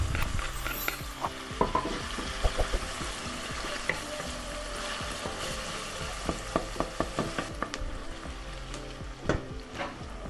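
Red onion and garlic cloves fry in hot oil in a pan, a steady close sizzle broken by repeated scraping and clinking strokes of a utensil stirring against the pan.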